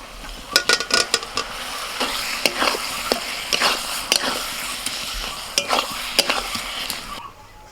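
Fried potatoes are stirred into sizzling masala in a pan, with a soft frying hiss under repeated loud scraping and clattering of the spoon against the metal.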